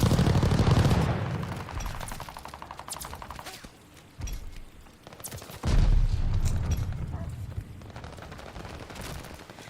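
An enemy strafing run in Call of Duty Vanguard rips through as loud, dense automatic gunfire and blasts, easing off briefly before a second heavy burst hits and rattles on.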